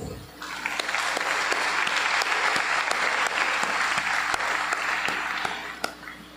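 Sustained audience applause fills a hall during a thanksgiving Mass in Port-au-Prince, welcoming a priest; steady dense clapping swells for about six seconds, then tapers away near the end.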